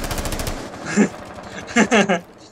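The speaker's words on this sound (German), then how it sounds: "kamen Schüsse von hinten" Sharp bursts of gunfire in Tom Clancy's Rainbow Six: Siege ring out from behind in quick clusters, loud and close, with a pause between volleys.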